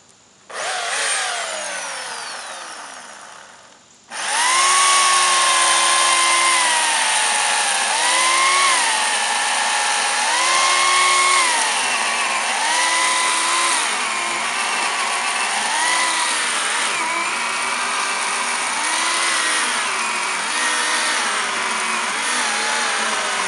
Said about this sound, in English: The Earthwise 14-inch chainsaw